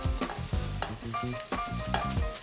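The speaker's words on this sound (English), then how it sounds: "Give that a good stir" A spice pack of ground and whole spices is stirred into vegetable curry in a hot pan: repeated spoon scrapes and knocks over a steady sizzle, close and rhythmic, with no talking.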